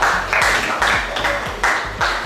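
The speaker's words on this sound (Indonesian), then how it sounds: "tepuk tangan dulu untuk kelompok 3" A class of students in an Indonesian school art and culture lesson clapping for a presenting group, loud and close, in rhythmic bursts that repeat at a steady pace with no talk.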